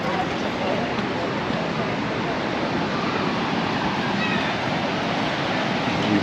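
Big waves roll and break on the beach at Paguera, Mallorca, after a windy week, making a steady, loud wash of surf that continues without a break.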